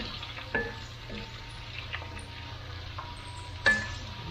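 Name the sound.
shrimp frying and being tossed in a pan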